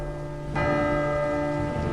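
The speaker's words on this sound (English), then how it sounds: "this purple one is like funeral bells" Funeral-bell melody from a punch-card music machine in the Syberia adventure game, a clear bell tone striking about half a second in and ringing out with a long sustained resonance over a steady background hum.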